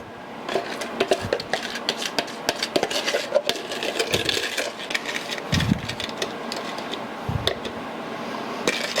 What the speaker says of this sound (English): And now I'm going to add my cheese mixture.